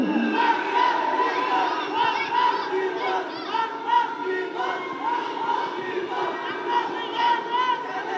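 Excited crowd at a film pre-release event, a dense sustained roar of cheering and shouting voices throughout, loud and continuous.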